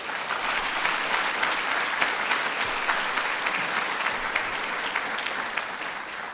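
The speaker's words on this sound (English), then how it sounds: "Give them a big round of applause." A large audience of young Southeast Asian leaders gives sustained applause at a presidential speaking event, a dense, even roar of clapping hands holding steady throughout with a slight taper near the end.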